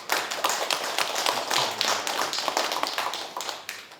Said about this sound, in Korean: 우리 한번 축하 박수 한번 드릴까요?